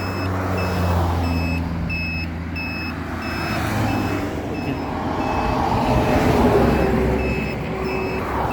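A computer-motherboard buzzer wired to the turn-signal unit of an RKS Blazer 50cc motorcycle beeps in a steady, evenly spaced series of short high tones above a continuous engine drone.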